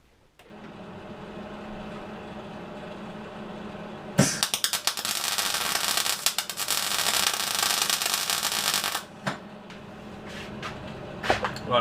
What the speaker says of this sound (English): Let's get the MIG fired up, shall we